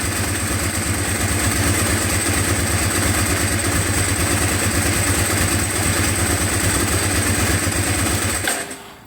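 A Ducati 749S motorcycle engine runs steadily at idle with a rough, pulsing exhaust note during exhaust pressure wave testing, close and loud throughout, cutting out abruptly near the end.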